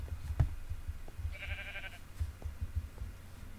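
A single short wavering bleat from a Minecraft sheep sits mid-clip, moderately faint, over a continuous low rumble and scattered soft thumps.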